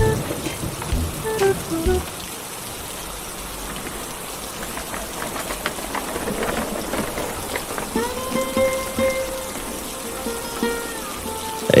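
Rain falls in an animated village scene as a continuous wash of patter, mixed with brief clattering noises and tonal sound effects, with no clear speech.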